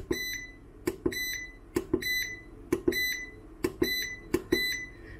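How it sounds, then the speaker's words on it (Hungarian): VEVOR 3500W hybrid solar inverter-charger sounding its alarm: a rapid, insistent series of sharp electronic beeps repeating in quick regular bursts, close and clear with no talk. "Nagyon vadul csipog."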